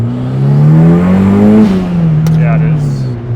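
A turbocharged 400HP Miata accelerates hard at wastegate boost, around 14 psi, its engine note climbing steadily and then dipping slightly with a shift, loud and close from inside the car, with no talking.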